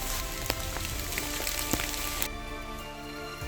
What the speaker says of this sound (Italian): la pioggia battente sta continuando